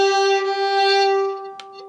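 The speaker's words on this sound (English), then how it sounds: "do what's called a bow rock. So it sounds like this." An old-time fiddle closes a phrase with a bow rock, a sustained bowed double-stop drone that swells slightly and fades, followed by a faint rattle near the end.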